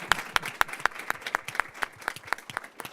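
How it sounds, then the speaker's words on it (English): Audience applause at the close of a student mentoring session at DePaul University, a modest room-sized round of clapping with a few sharp individual claps standing out, fairly quiet and steady throughout. "Everyone, one final round of applause."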